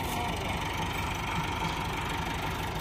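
A tractor engine runs continuously at a steady, dense rumble while pulling a 2025-model super seeder during field testing, with no pauses or change in load.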